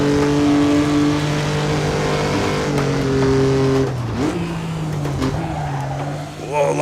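Race car engines in Assetto Corsa at the historic Pau Grand Prix, a loud sustained drone with steady harmonic pitch that shifts down around braking, with brief tire squeal near the end.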